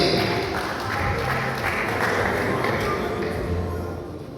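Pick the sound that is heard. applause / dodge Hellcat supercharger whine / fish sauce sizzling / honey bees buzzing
applause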